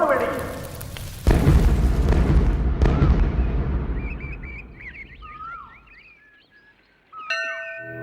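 Firecracker blasts set off as a temple offering to ward off ill effects of house construction: a loud broadband boom near the start and a second burst shortly after, each decaying, then birdsong and a later tonal sound.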